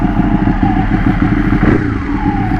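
A Ducati Panigale 1199 Tricolore with a modified exhaust revs loudly up close, its dense engine roar swelling and dropping in pitch as the throttle is blipped, with no voices over it.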